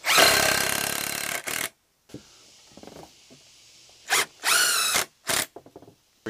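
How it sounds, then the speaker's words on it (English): A power tool drives 3 inch deck screws into wood while a jobsite drafting table is assembled, with a long loud whirring run, a pause with faint handling noises, then several shorter close bursts. "to assemble it, I'm just using some 3 inch deck screws."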